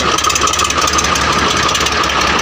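A Swaraj 735 tractor engine idles loud and steady close by, with a rapid rhythmic knock running through it and no voices.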